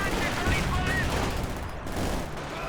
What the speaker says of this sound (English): there goes the machine gun